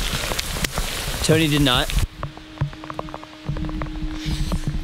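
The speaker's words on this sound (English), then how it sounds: "It's starting to rain pretty hard." Rain falling hard on a hiking trail near Sunset Rock in Highlands, North Carolina, a steady broadband patter with scattered louder drops, following brief talk and a whistled tune at the start.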